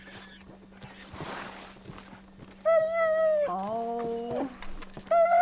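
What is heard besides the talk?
dog whimpering in video game Red Dead Redemption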